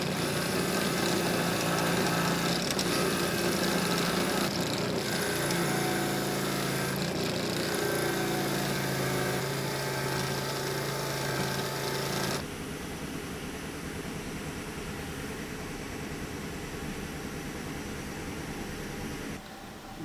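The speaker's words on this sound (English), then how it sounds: "about to use the wire brush, we're gonna decarbon everything on the valves" A wire brush, likely power-driven, scrubs carbon off the intake and exhaust valves of a BMW engine during a valve seal replacement. It makes a loud, steady grinding whir up close for about twelve seconds, then drops to a quieter, duller buzz.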